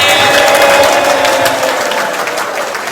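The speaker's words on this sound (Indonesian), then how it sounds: "tepuk tangan sekali lagi" Dense applause from a large seminar audience at a business event, loud and continuous for about three seconds, with a few cheers and whoops mixed into the steady clapping.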